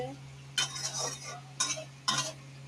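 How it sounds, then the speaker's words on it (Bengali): Potatoes with cumin and turmeric stirred in a wok, three distinct scraping stir strokes over a faint sizzle and a low steady hum, close and fairly quiet. "কড়াইতে জিরে ফোড়ন দিয়ে আলু দিয়ে হলদি দিয়ে ভালো করে কষিয়ে নেওয়া হয়েছে।"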